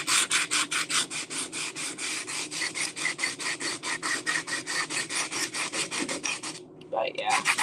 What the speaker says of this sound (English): This is probably the roughest piece of sandpaper that I've used.